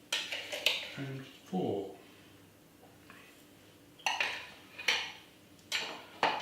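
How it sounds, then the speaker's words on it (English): Metal spoon clinks against a glass cafetiere and heaped scoops of ground coffee are tipped in, several distinct taps and scrapes close by while a voice counts along. "So 1 good heaped spoon of coffee."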